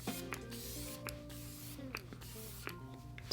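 Benefit Professional Super Setter setting spray mists onto a face in about four quick, fine hissing puffs, spaced under a faint murmur of voice.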